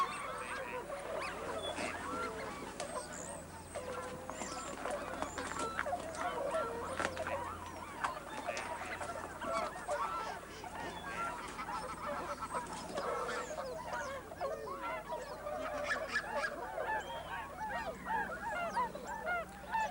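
Many swans call across a lake, a steady chorus of honking and bugling cries overlapping near and far without a break.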